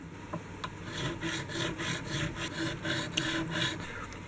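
Steady rasping strokes of a 150 grit diamond file crowning leveled frets on an SG electric guitar, about eight even back-and-forth passes, close and moderately quiet.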